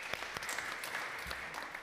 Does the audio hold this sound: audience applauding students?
yes